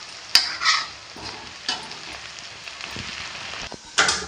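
Masala being stirred as it fries in a pan while making chhole, with soft scraping strokes and a steady low sizzle, a few sharper clinks of the spoon standing out near and alone.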